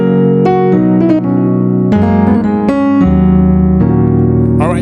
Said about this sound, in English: So this piano sounds like this